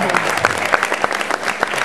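A small audience at a game session applauds: scattered individual claps, fairly close and loud, over a low murmur of voices.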